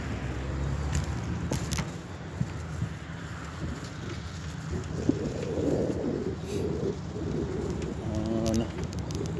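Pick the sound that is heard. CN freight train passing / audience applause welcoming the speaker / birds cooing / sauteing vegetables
birds cooing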